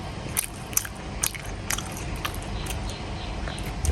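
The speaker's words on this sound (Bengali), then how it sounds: "খেয়ে নি এখন" A person eats aloo bhorta, Bengali mashed potato, close to the mic, with soft chewing and a few sharp bite and crunch clicks in an irregular rhythm over a quiet room background; no talking.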